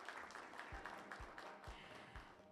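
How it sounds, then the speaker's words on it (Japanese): Audience applause at the Osaka-Kansai Expo official mascot announcement ceremony, a dense wash of clapping held at a steady level for a few seconds, with a handful of low thumps scattered through it. "どうぞ皆様、今一度盛大な拍手をお送りください。"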